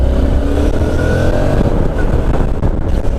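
A near-automatic motorcycle with a torquey engine drones loudly and continuously on a test ride, the motor note steady without pause and no talking over it.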